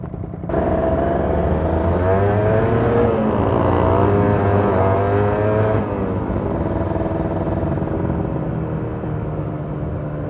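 A 2012 Kawasaki Ninja R motorcycle on a test ride, its engine droning loud and steady with rising and falling revs, a continuous close-up roar mixed with wind rush.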